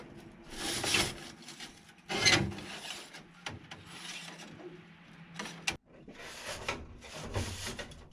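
A stiff brush scrapes and rubs inside a clogged chimney flue, loosening soot into a plastic convenience-store bag tied below. Bursts of rasping scrubbing come in uneven strokes with brief pauses and knocks, fairly close and moderately loud, with no talking.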